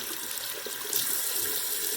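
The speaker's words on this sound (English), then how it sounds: "And I'm going to run the water" Tap water runs steadily into a bathroom sink, a continuous hissing splash at moderate volume and no talking.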